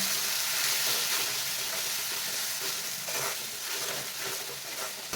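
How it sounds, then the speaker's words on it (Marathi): Spice masala paste roasts in oil until the oil separates, for a shevga drumstick dish, giving a loud, continuous close sizzle broken by soft stirring scrapes. "हा मसाला तेल सुटेपर्यंत भाजून घ्यायचा आहे"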